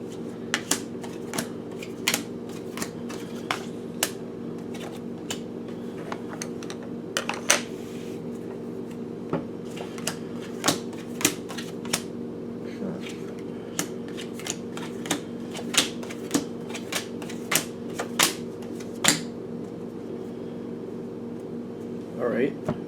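Oracle cards from a Spirit Animal deck being shuffled and flipped, giving a string of sharp, dry clicks and snaps over a steady low room hum, with a person talking softly in places.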